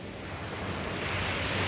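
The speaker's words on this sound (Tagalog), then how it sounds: "Sobrang nakaka-relax ang alon." Steady rushing surf of ocean waves at Amper beach, Philippines, broad and continuous, with some wind noise on the microphone.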